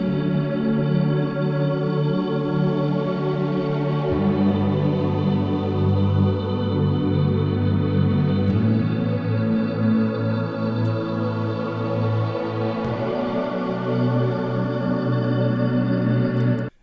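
Lush, dreamy synth pad washed in reverb with chorus and compression, sustaining layered chords that shift every few seconds as a dense, steady, loud wall of sound with no voices over it.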